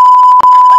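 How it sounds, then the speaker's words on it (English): A steady electronic censor beep, a single continuous tone at about 1 kHz, runs loud through the whole moment, with faint speech bursts pulsing beneath it and one brief dropout near the middle. "Can you put a beep on this?"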